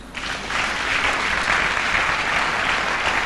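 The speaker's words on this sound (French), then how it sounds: "Acclamons le Seigneur" A church congregation applauds to acclaim the Lord during a sermon, giving sustained, dense clapping that rises quickly and stays even and loud throughout.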